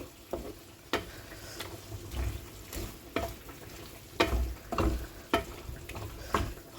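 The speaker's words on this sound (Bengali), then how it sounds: "দিয়ে দেব আমি একটু কাঁচা সর্ষের তেল উচ্ছেটার মধ্যে এবার এটা আমি মিক্সড করে নেবো" Bitter gourd gets mixed with raw mustard oil in a pan, with a series of spaced utensil knocks and scrapes against the pan over a faint sizzling background.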